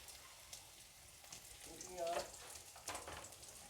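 Chopped ginger, garlic and a dried red chili frying in a small amount of oil, a faint soft sizzle with a couple of brief louder crackles and utensil touches.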